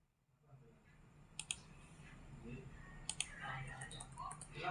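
Numbers being typed on a computer keyboard, soft scattered key clicks with a few sharper strikes, faint and close, while someone murmurs quietly.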